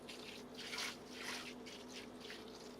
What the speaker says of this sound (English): You want to pour your water over the Rockwool